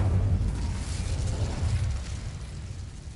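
Incendio fire spell cast in Hogwarts Legacy, a loud low whooshing burst that rumbles for a few seconds and gradually fades, with no talk over it.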